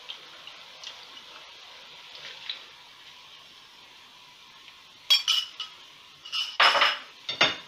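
A spoon works through lotus root curry with turmeric and thick coconut milk in a pot: a faint, quiet hiss, then a few sharp metallic clinks and scrapes against the pot near the end.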